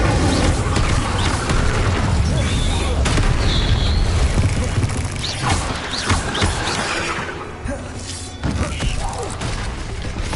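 Confringo and Bombarda spells in Hogwarts Legacy set off a run of heavy booming, crashing explosions, loud and near, with a voice speaking intermittently over the blasts.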